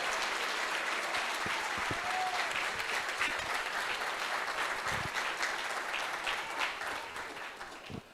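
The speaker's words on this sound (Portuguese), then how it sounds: "Aplaude as asas do Senhor." A church congregation claps together in sustained, even applause for several seconds, then thins and fades toward the end, with no voices standing out.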